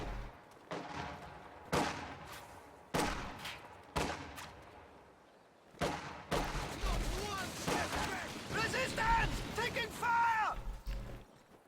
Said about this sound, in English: Here comes the MG42 for support.